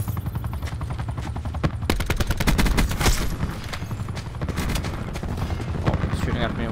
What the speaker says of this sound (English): he's shooting at me, wasn't he?